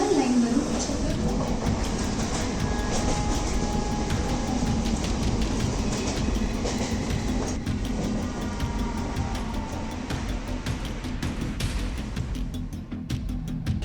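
A Mumbai 12-car slow local train standing at platform 8 gives off a steady, loud rumble and hum for the whole stretch, with voices or announcements faintly mixed in.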